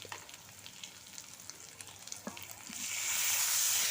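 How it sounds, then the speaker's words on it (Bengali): Salt, chili powder and turmeric sizzle in hot oil as a bitter gourd, potato and cucumber curry is sautéed. A steady, close frying crackle with faint stirring scrapes swells into a louder, hissing sizzle near the end. "দিয়ে আমি এখন এটা ভালোভাবে কষিয়ে নিব"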